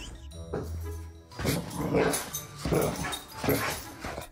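A dog whimpers and lets out short yips and barks in bursts, close by and fairly soft, with a few whining cries between.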